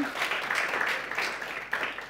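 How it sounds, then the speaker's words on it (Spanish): Audience applause after a talk at a Spanish-language conference session on augmented and artificial reality, a steady, moderately loud wash of many hands clapping that runs on without pause. "un aplauso de vuelta para Jorge y para, para Héctor"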